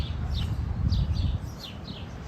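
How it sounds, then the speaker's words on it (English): Birds chirp and sing in short repeated high calls in Central Park, New York City, heard over a steady low rumble of the park and city background. "Listen to the birds."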